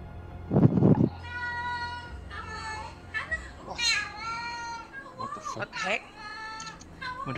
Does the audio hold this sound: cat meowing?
yes